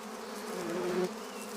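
Stingless worker bees buzz steadily around their colony, a close, even drone of wingbeats that swells briefly and then settles.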